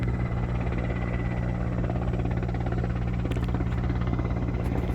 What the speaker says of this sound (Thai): ครับเฮลิคอปเตอร์ฮะ